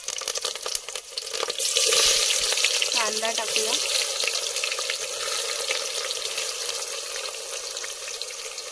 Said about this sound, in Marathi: कांदा एकदम ब्राऊन झालाय तर काढून घेऊया ग्रेव्ही बनवून घेऊया खडा मसाला टाकून घेऊया